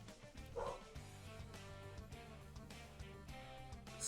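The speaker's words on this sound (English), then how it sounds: "Apologies if you hear my dog barking in the background." Indoors, a dog lets out a single short bark early on, faint and somewhat distant, with a little more yipping near the end over a low background hum.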